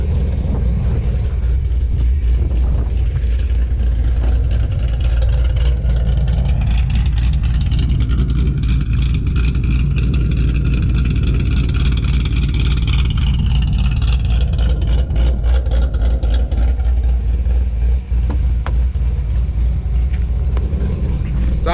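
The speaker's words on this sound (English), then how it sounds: "So if you listen here, this is the idle." Cammed engine of a 2015 Chevrolet Camaro SS 1LE idling, a steady low rumble with a loping pulse, heard from inside the car, continuous and fairly loud throughout.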